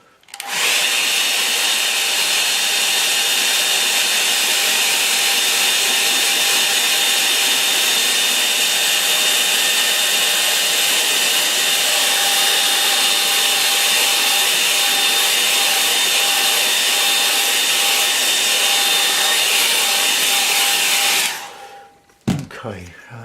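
A hair dryer blows on a watercolour painting of a rocky stream, a loud, steady whooshing hum that runs unbroken for about twenty seconds before switching off abruptly.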